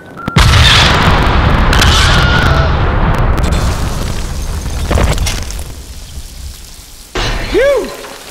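A huge explosion in the Deadpool video game, a sudden loud boom that rolls into a long roaring, crackling rumble and debris patter before fading, followed by a couple of short thumps.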